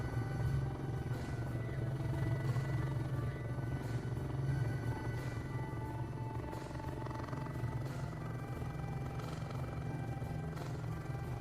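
Helicopter flying in a video game, a constant low rotor drone and engine hum at steady volume throughout, fairly quiet and without speech.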